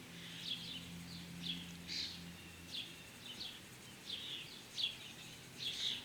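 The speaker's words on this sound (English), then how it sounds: "it's pleasant to listen to the birds and the wind chimes" Birds chirp and call in repeated short bursts around a patio, several tweets spread across the moment at moderate distance, with a faint low hum underneath; wind chimes are not clearly distinct.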